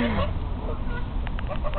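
Geese in a park give a few scattered honks, mostly toward the end, mixed with low rumble and faint voices nearby.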